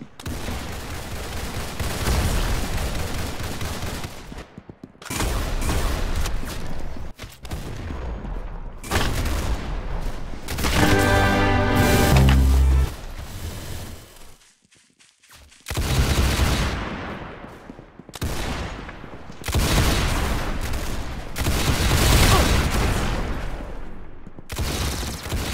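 Video game Arsanal gunfire: dense bursts of rapid shots and booming blasts in loud clusters, separated by short silent gaps.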